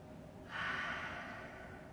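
A single soft, drawn-out exhale during a yoga forward fold, faint and close, rising suddenly and then slowly fading against a quiet background.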